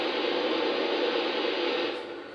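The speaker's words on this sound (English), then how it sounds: "sound effects, blow down," A steady, loud rush of hissing steam, like a blowdown release, holds evenly and then tapers off slightly at the end.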